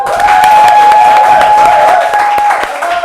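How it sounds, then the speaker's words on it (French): Studio audience on a French-language youth show applauding a guest, loud sustained clapping with a steady high tone running through it, easing off toward the end. "On applaudit pour elle, Marielle."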